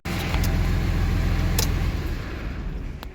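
A 2006 Ram 3500 Cummins diesel with a G56 gearbox rumbles steadily nearby as it rolls into the shop, its deep engine drone loud and unbroken, easing slightly toward the end.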